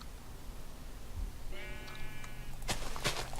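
A sheep in the Minecraft game gives one clear bleat partway through, followed by a couple of sharp clicks over a faint background hiss.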